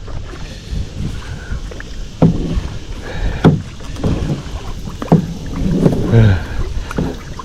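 Kayak paddled through water, with paddle strokes splashing and dipping at irregular intervals against a steady backdrop of wind noise on the microphone, the splashes fairly close and moderately loud.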